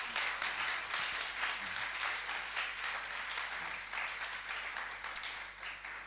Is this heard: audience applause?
yes